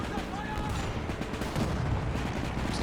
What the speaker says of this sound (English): we've got some bombs being dropped directly on the Lee, and the Lee is no more